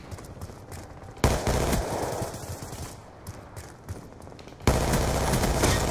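Rapid automatic fire from the Vector gun in Black Ops 2, loud sustained bursts of gunshots with a brief pause between volleys, close and dominant.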